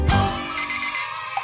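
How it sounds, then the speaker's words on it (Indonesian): An alarm clock beeps in quick bursts, four short electronic pulses in a row after a brief opening thump, loud and close with nothing else over it. "itu alarm apa lagi sih?"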